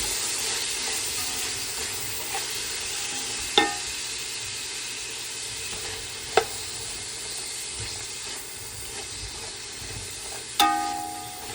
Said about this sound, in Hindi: फिर आखिर में बंद गोभी, वो तो 3-4 दफ़ा स्टिर फ्राई करें वो तो हो जाती है। अब इन्हें स्टिर फ्राई कर लेंगे हम।